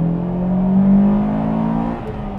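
A Honda Integra Type-R engine revs hard with a loud, rising growl, then settles back into a steady idle-like drone.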